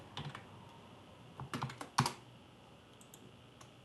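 Someone types on a computer keyboard in short bursts of clicking keystrokes, with a quiet gap between a cluster near the start and a louder flurry in the middle.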